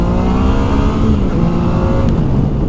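2020 Yamaha Tracer 9 GT motorcycle, about 115 horsepower, accelerating hard, its engine note loud and close with a steady rising drone and no talking.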